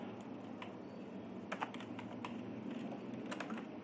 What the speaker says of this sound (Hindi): कमेंट के लिए कीबोर्ड से कंट्रोल शिफ्ट और स्लैश प्रेस करेंगे